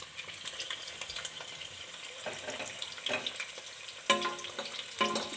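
Eggs frying in hot oil in a kadai for egg curry, a steady sizzle broken by scraping and splashing bursts near the end.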